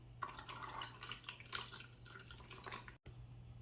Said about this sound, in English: And still a lot of water coming out.